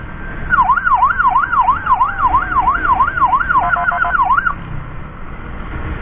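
An ambulance siren wails in a steady, fast-cycling yelp, loud and close, switching briefly to a quicker warble before cutting off, with road noise continuing underneath.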